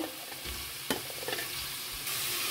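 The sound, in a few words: frying onion, carrot and tomato in a pan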